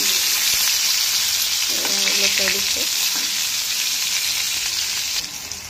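Eggplant slices frying in salted oil in a kadai give a steady, close sizzle that runs throughout, with a few brief utensil clinks partway in.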